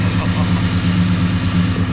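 A Ford XR6 Turbo with a new exhaust idles steadily up close, a deep, loud, even burble with a slight rhythmic lope and no pauses.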